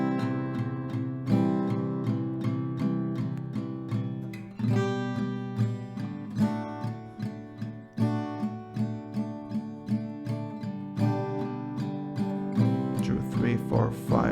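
A song played slowly on acoustic guitar: a close, steady strumming pattern of repeated chords at an even rhythm, with regular accents and a few brief pauses.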